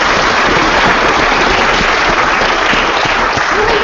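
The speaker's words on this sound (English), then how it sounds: "So let's give them a round of applause." Loud, sustained audience applause at a conference opening ceremony fills the whole stretch, a dense even wash of clapping with no pauses.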